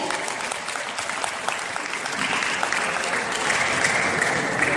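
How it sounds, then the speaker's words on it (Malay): Sustained applause from an audience in a hall honouring young Muslim preachers at a youth camp awards event, a steady dense clapping wash with a slight swell toward the end and no voices standing out. "tepuk tangan kepada da'i-da'i kita yang hebat ni"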